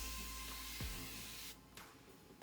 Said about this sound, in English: now I'm gonna set it with my Beauty Bakery baking spray